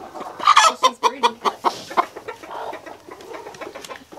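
A broody hen clucks inside a chicken coop, a close run of rhythmic clucks that fades into softer, scattered murmurs.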